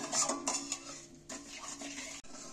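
Sugar syrup being stirred in a pan, soft scraping and clinking of a utensil against the pan in a few uneven strokes, quiet and close, with a faint background hum.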